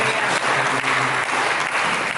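A church congregation applauds during a Sunday service, dense steady clapping from many hands filling the room for a couple of seconds, with a faint voice underneath.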